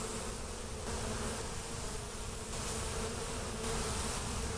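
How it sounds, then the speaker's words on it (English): A dense, steady drone of many honey bees buzzing close by at a hive during an inspection, continuous and even throughout, with no voices. "A lot of young bees, a lot of nice little small bees."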